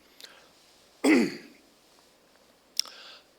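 A man recovering from the flu clears his throat and gives a short cough during a church sermon, one loud rasping burst followed by a lighter catch, over a quiet room.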